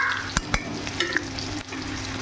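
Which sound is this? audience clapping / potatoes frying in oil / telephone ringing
potatoes frying in oil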